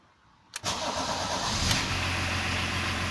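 A BMW 324 with an intermittent stalling fault cranks briefly and fires up, then settles into a steady, close idle with a low rumble after the start.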